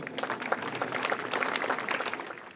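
Audience at a heritage-day talk on the history of the Antoigné site in Sainte-Jamme-sur-Sarthe claps steadily, a dense patter of hands filling the room without pause.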